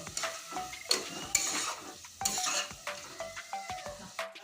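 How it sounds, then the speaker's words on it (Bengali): Chicken masala spices with a little water sauté in a pan, a spatula scraping and clinking against metal in repeated strokes over a soft sizzle, close by with no talking. "এখন আমি আরও সুন্দর করে কষিয়ে নেব"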